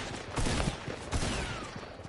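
Gunfire in Fortnite, a rapid burst of loud shots crackling over about two seconds with a couple of sharper individual cracks, no talk over it.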